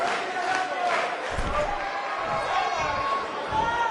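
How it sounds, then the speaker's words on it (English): A large arena crowd roars in the WWE 2K19 wrestling game, a dense continuous wash of cheering and chatter with a few thuds, heard under a commentator's voice. "We have a sold-out, record-setting crowd here for BCW tonight."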